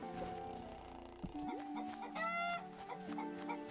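A hen clucks repeatedly and loudly nearby outdoors, with a burst of rising squawks in the middle.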